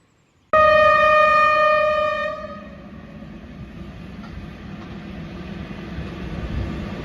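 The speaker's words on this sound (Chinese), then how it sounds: "这又是一列货车。" A freight train on the Yingtan–Xiamen railway runs along a forested hillside: a loud, sudden horn blast with strong tones lasts about two seconds, then gives way to a steady rolling rumble of wagons passing close by.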